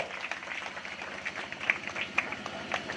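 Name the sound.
audience applause at a wedding ceremony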